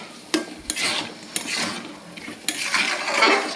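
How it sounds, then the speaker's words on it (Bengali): Egg tarka with green chili being stirred in a pot, a spoon scraping and clinking against the metal in irregular strokes with a faint sizzle, close and fairly loud, no talking. "কাঁচা লঙ্কাটা দিয়ে আবারও ভালো করে নাড়িয়ে দেব"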